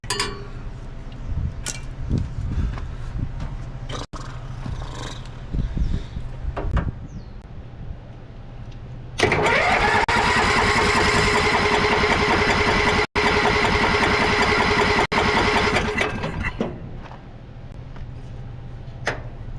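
A three-wheeler engine that has sat for four years catches and runs, loud and steady with a raised rough idle that holds for several seconds before fading down, with sparse background noise before it fires.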